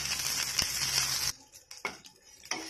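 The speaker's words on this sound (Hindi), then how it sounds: "प्याज एवं रसुण टिके टिके भाजी हो आसलानी।" Onion and garlic frying in a pan, a steady loud sizzle that cuts off abruptly, followed by a few sharp stirring scrapes and clinks against the pan.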